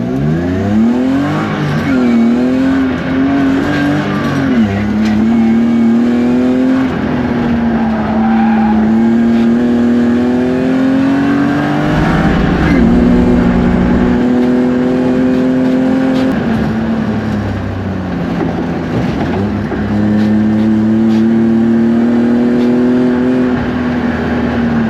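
Modified project cars lap Llandow Circuit, one engine held loud and near as it revs up and down through gear changes in long rising sweeps, with tyre noise from drifting and no talk.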